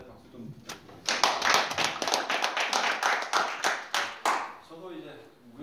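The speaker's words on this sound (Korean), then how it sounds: "감사의 박수 좀 부탁드립니다" An audience at an academic conference on arbitration claps in thanks after a presentation, a burst of many hands starting about a second in, sustained and fairly close, then fading out.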